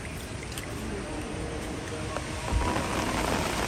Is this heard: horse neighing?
no